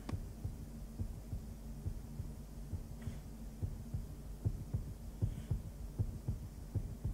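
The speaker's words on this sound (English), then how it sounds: "Why's my heartbeat going louder?" A heartbeat pounding in steady double thumps through a low hum in the horror indie game 7 Days, growing slightly stronger toward the end.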